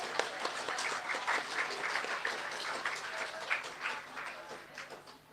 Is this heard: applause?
yes